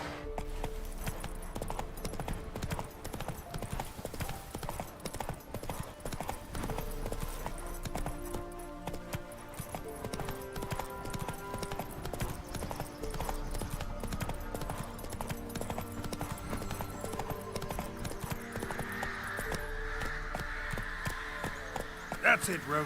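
Roach, the horse in The Witcher 3, gallops as steady rhythmic hoof clops within the game's mix of music and ambience, lasting the whole stretch, with a voice talking over it.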